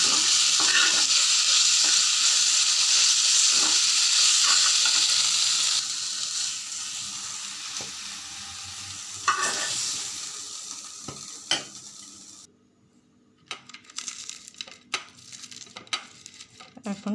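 Fried eggplant stirred in a pan, sizzling fading as scrapes and metallic clinks of the utensil sound intermittently, ending with scattered clatter after the heat drops.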